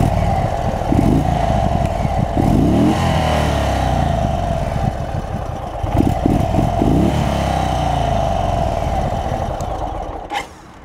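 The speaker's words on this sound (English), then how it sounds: "The exhaust note of this motorcycle is also pretty exciting." A 2022 Indian Chief Dark Horse cruiser with its standard exhaust idles with a deep, lumpy throb, then revs in several strong blips and falls back, close and loud.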